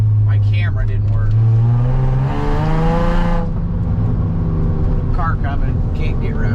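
A car approaches with a rising engine hum that swells loudly and then passes, while people talk over it.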